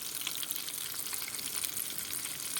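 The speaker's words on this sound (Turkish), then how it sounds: "2 tanesini koydum. Bakın şöyle şimdi çevireceğiz. İyice kızartacağız." Onion balls frying in a small pot of oil, a soft continuous sizzle with faint crackle and bubbling, heard alone without talk.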